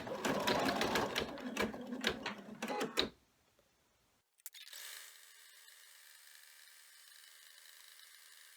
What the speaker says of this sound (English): we take it back to the machine and it's going to do the last step to put the two of these together